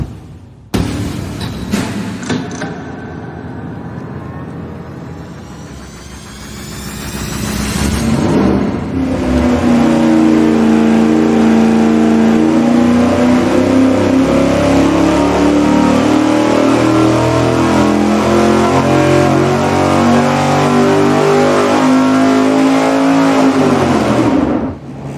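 An engine on a dyno during a single-versus-dual exhaust comparison cranks and starts, idles, then roars through a long, loud, rising pull lasting about fifteen seconds before abruptly shutting off.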